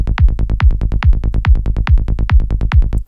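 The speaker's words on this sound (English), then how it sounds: "it has this very basic kick and bass loop which sounds like this" A basic electronic kick and bass loop built in Bitwig, punchy kicks pulsing at a steady tempo with deep bass tones between them, loud and clean with no voices.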